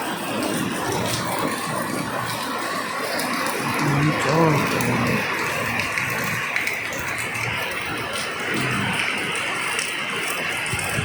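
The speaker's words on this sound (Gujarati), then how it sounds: "વરસાદ ઘણો છે, વીજળીથી થાય છે બહુ." Heavy rain falls steadily on a rooftop terrace during a thunderstorm, a dense continuous hiss with a brief louder patch; someone talks over it at times.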